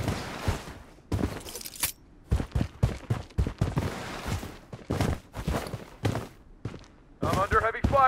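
Gunfire bursts in the mobile shooter Blood Strike, using a VSS Iron Blood and Inp9, with sharp repeated shots and footsteps mixed under near-constant in-game voice callouts.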